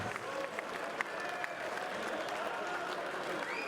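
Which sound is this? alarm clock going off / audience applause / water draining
audience applause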